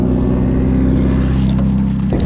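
Poseidon X gravel bike rolling over a gravel surface, a steady, loud, continuous low rumble and crunch throughout with no voices.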